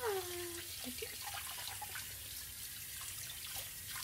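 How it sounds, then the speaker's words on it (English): Tap water runs steadily into a sink while hands are washed after picking up dog mess, a constant hiss with small splashes and drips, close and fairly quiet with no speech. "Now I'm washing it up."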